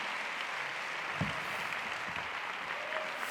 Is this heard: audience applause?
yes